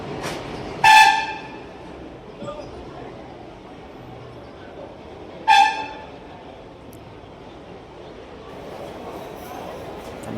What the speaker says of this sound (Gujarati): રેલવે સ્ટેશન નજારો